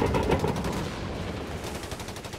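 Rapid machine-gun and rifle fire in the World War II strategy game Company of Heroes 3, a dense rattling burst of shots that stays loud throughout with no speech.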